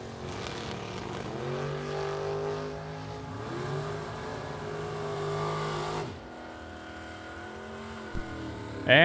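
Gary Siegelaug's rear-engine dragster from Fond du Lac, Wisconsin roars down a drag strip at a bracket race, a loud sustained engine howl that holds for several seconds, then drops away to a lower rumble.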